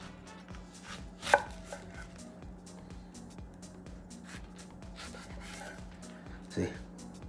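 Repeated knife strokes chop through plantains on a cutting board, steady and close, with a couple of sharper knocks standing out.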